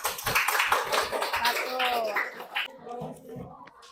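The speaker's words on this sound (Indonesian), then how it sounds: "sekali lagi tepuk tangan dulu untuk kelompok" A classroom of children claps for group 1 during a school lesson, a burst of dense clapping with a voice and light laughter mixed in, stopping abruptly near the end as voices carry on.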